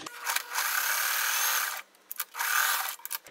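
A sewing machine stitches a quilt block diagonally from one corner, running in two steady whirring bursts split by a short pause, close and fairly loud with no talking.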